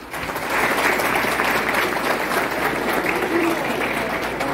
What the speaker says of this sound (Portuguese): peço a todos os aplausos à mesa diretora dos trabalhos